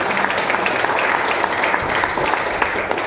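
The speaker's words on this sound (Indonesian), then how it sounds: "Tepuk tangan bagi Yesus Tuhan." Congregation applause during a sermon on the Book of Revelation: continuous, dense clapping from a crowd filling the room, steady and fairly loud, with faint crowd murmur underneath.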